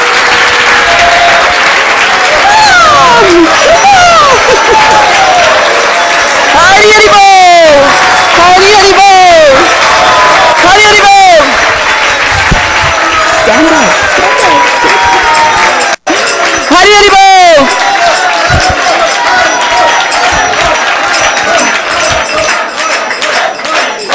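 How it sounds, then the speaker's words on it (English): A festive crowd at a Vyasa puja celebration breaks into loud, close applause and cheering. Voices shout over the clapping, and rising whoops and calls cut through the sound again and again. "I think we didn't get enough applause."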